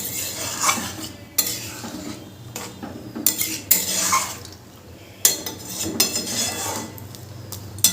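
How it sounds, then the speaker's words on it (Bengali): Chickpea and pea ghugni is stirred in a pot after water is added, with repeated clanks and scrapes of a spoon against the metal rim over a low simmer. "সমস্ত জলটা দিয়ে দিয়েছি এবারে সবগুলোকে একসাথে ভালো করে মিশিয়ে নেব"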